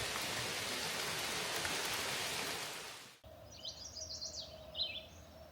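Steady outdoor rain hisses evenly for about three seconds, then cuts off, followed by a quieter outdoor scene with faint bird chirps.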